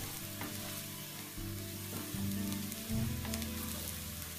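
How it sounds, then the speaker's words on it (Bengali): Onions fry in a pan with a continuous close sizzle, joined by a low droning hum and a few scraping stirs, with no voices. "আমার পেঁয়াজটা মোটামুটি ভাজা হয়ে এসেছে"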